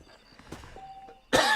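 A character in Red Dead Redemption on Nintendo Switch lets out a single sharp cough near the end, loud and close after a quiet stretch of faint game ambience.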